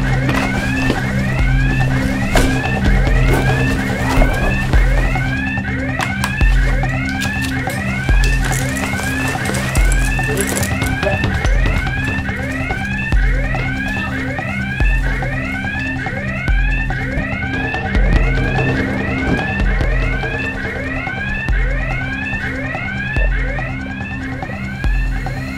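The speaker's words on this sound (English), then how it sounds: "Hey, alarm go!" A scramble alarm blares at a NATO air base policing Baltic airspace, a loud electronic tone rising in quick repeated sweeps over a low steady hum, continuing without pause for the whole stretch.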